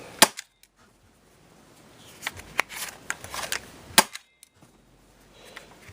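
Umarex Rekt OpSix CO2-powered Nerf pistol fired several times in quick succession, giving sharp, close pops spaced irregularly, with a small burst of shots in the middle and quiet gaps between.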